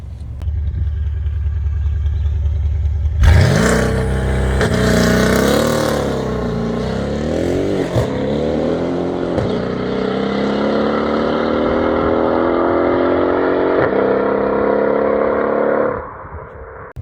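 A Mercedes-Benz E63 AMG S engine roars close and loud, revving sharply up and down, then holding a long rising drone before dropping off at the end, with no talk over it.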